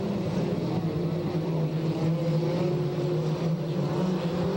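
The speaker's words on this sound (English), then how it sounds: "Spectacular mini stock racing." Dwarf mini stock cars race at Marysville Raceway during dwarf car nationals, a steady buzzing drone of several engines at a distance, continuous and moderately loud.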